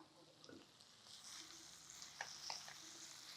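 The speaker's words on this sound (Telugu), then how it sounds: "దీన్ని నిదానంగా వేగనివ్వాలి." Chickpea flour patoli with capsicum frying slowly in a pan, a soft steady sizzle with a few brief crackles and stirring scrapes, close by and moderately quiet.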